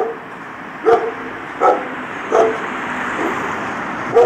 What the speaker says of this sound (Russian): Ташкентская овчарка.